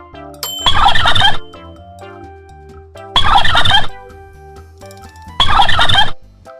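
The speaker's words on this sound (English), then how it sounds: "Turkey." Three loud bursts of turkey gobbling, evenly spaced, with soft chiming music playing in the gaps.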